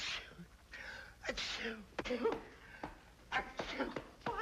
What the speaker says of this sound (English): I get to sneezing like that, and sometimes it almost kills me